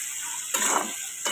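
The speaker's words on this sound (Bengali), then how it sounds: "মিশিয়ে নেবো ভালো করে।" Chili chicken being stirred in a pan with sugar and salt, a couple of short scraping, sizzling bursts over a steady frying hiss, close and fairly quiet.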